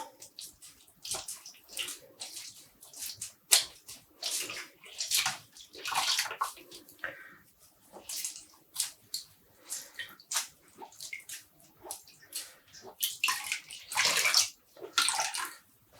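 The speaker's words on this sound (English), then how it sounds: "Squeezing out the water." Water splashes and drips in short bursts as freshly dyed wet yarn is wrung out by hand, with pauses between squeezes.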